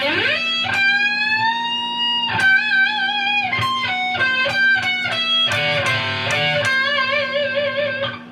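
Overdriven electric guitar plays the double-stop section of a solo, a loud run of bent two-note phrases with heavy vibrato and quick picked notes, played alone without talk.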